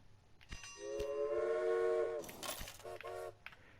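A train in a video game sounds a clear two-tone whistle for about a second and a half, followed by short horn blasts and soft rhythmic track thumps, with no one talking.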